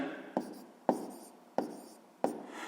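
Pen strokes on paper during a sixth-grade maths exercise, four distinct scratchy bursts at a steady pace, close and fairly quiet, with faint murmuring in the background.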